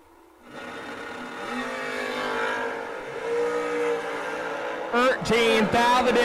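A dragster and a Chevelle wagon on a drag strip, engines building in a rising, buzzing rev that swells steadily, then sharp revving bursts and launch near the end, loud and close.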